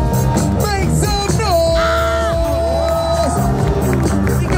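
A large outdoor crowd in Times Square cheers and yells at a street performance, a dense, loud roar of voices with whoops and a sustained sung or shouted tone running through the middle.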